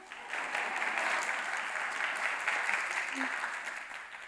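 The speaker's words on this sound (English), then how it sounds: "oh yes, applause." A crowd of attendees at an education innovation event applauding, a sustained, even wash of clapping heard from a slight distance at moderate volume.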